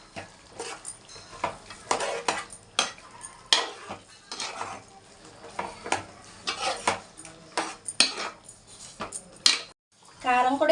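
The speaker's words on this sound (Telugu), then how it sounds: "కలుపుకుందాము." Gongura mutton curry stirred in a pot, a spoon scraping and clattering against metal in repeated bursts with a soft sizzle underneath, close by; a person talks over parts of it.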